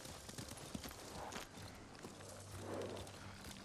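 Horses walk in the Ghost of Tsushima video game, quiet irregular hoof clip-clops over a faint low background, soft and distant.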